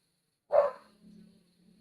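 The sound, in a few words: dog barking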